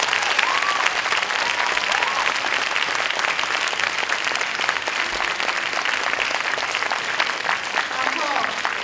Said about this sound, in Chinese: 请你们给他们一个非常非常非常热烈的掌声。